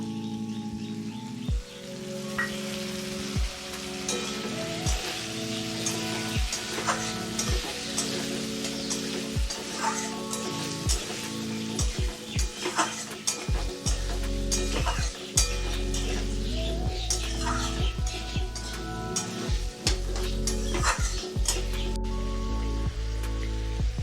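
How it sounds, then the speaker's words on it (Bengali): Ginger chili paste sizzles and spatters in a hot pan of oil while being stirred for a healthy fish dish, a steady crackling fry punctuated by sharp scraping and clinks of the spatula, no voices. "এখন দিয়ে দেবো আদা লঙ্কা বাটা।"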